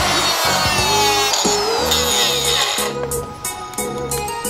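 A tool cutting through a car engine hose, with rough, repeated strokes and a harsh rasping grind, loud and close, with no talking.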